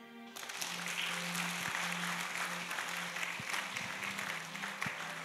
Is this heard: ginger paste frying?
no